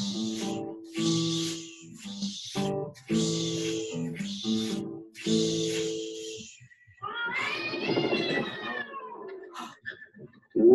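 A cat meows nearby in a series of drawn-out, tonal cries, followed by a longer, wavering yowl near the end.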